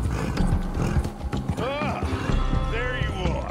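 Heavy Shire horse hooves clip-clop in Red Dead Redemption 2, mixed with game sounds and a brief tonal swoop, while people talk over the steady, moderately loud trot.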